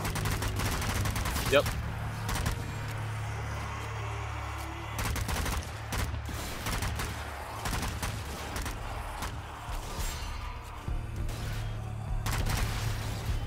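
Rapid gunfire bursts from the zombie shooter Zombie Army 4 crackle repeatedly across the scene, loud and dense, with players chatting over the shots.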